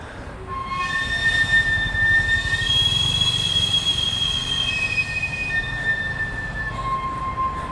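Steam whistle of a sweet potato vendor's cart on a street in Mexico, a shrill, steady multi-toned whistle that holds continuously over a low street rumble, fairly close and loud.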